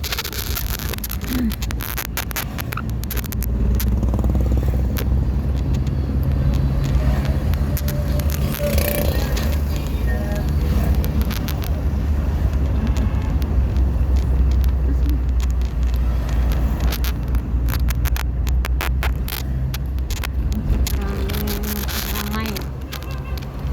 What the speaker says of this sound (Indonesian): Kendaraan roda 4, roda 2 pun, roda 3 masih cukup banyak, berlalu lalang.